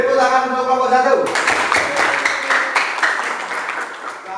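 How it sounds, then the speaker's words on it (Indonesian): A classroom group claps for the first student group after its presentation, with a brief voice followed by a sustained burst of applause from many hands that keeps going to the end. "Beri tepuk tangan untuk kelompok 1."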